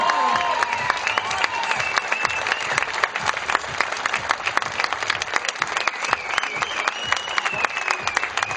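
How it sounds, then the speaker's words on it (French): An audience at a live concert in France applauds, with dense continuous clapping and some cheering that holds steady throughout. "Sur vos applaudissements."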